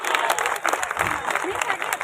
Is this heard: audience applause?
yes